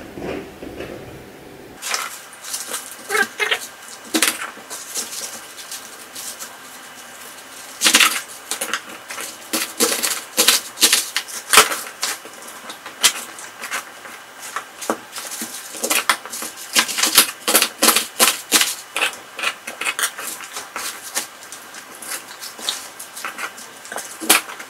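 A knife chops vegetable quarters for Korean kimchi in rapid, uneven runs of sharp knocks on a cutting board, close and fairly loud, with no talking over the cutting.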